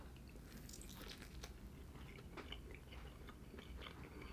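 Bites and chewing on a pan-fried chive bun, crisp on both sides with soft fluffy dough, give soft crunchy and squishy mouth sounds over a steady low restaurant background, with no talking.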